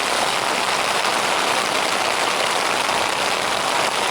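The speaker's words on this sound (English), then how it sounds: "I love the sound of the rain." Heavy rain pours onto a freshly waterproofed camping tent, a loud, dense, unbroken patter of drops with no voices.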